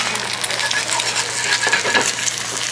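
Eggs cook in a Borough Furnace skillet with a soft, continuous sizzle, punctuated by light metallic scrapes and taps of a utensil against the pan, and no voices.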